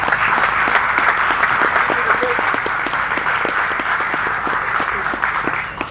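An audience at Tankfest 2019 applauds to welcome Hollywood stuntman Jim Dowdall, with dense, steady clapping from a sizable crowd that holds for several seconds and fades slightly near the end.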